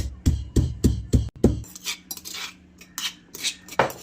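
Ginger, green chillies and garlic with salt are pounded into paste, several hard, evenly spaced thuds opening the clip, followed by lighter irregular scraping and grinding strokes, close and alone without speech.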